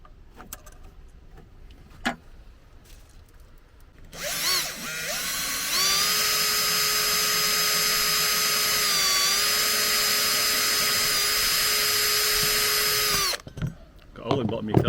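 Power drill boring a hole in the bottom of a carburettor for a VW T25 2-litre engine, whirring loudly and steadily for about eight seconds after a brief spin-up, with faint knocks before and after.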